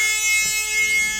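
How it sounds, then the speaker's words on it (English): The emergency buzzer on a 2021 Thomas Saf-T-Liner C2 school bus sounds as a steady, loud electronic tone with a high pitched whine, held continuously through the short moment with no talking. "Emergency buzzer works"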